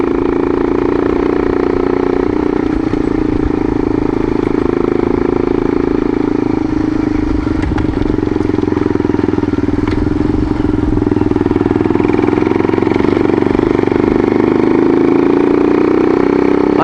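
A light dirt bike sits running on a loose-gravel mountain lookout, its engine holding a loud, steady, close idle with faint clatter throughout and no break in the drone.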